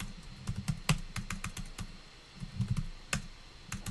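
Close, irregular keystrokes on a computer keyboard, quick clusters of clacking taps with short pauses between bursts and no talking.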